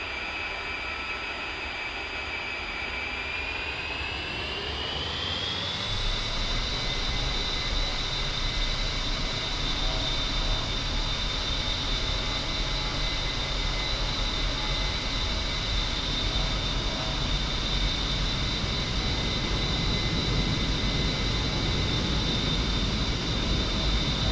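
An A-10C jet in DCS spools up for takeoff, its engine whine rising in pitch over several seconds and then holding as a loud, steady roar with a rumbling ground-roll underneath.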